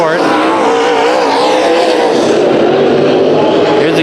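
Race cars roar around a speedway during a heat race, a loud continuous engine drone rising and falling in pitch as the cars circle, with an announcer talking over it.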